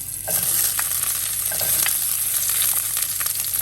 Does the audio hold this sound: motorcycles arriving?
no